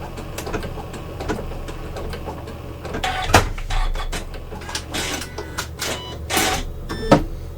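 A Janome sewing machine stitches quilt binding, a rapid mechanical whir running steadily with a few louder clacks partway through, close and without talking.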